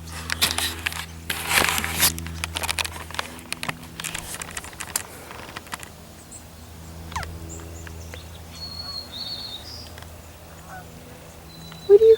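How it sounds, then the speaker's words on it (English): Wild ducks pass overhead, their honking calls rising and falling in a few scattered bursts at moderate distance over a quiet outdoor background with some rustling and handling noise. "I heard the ducks."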